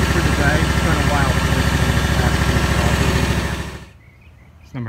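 Ferris riding lawn mower engine running loud and steady close by, its even throbbing drone dropping away near the end before a brief return.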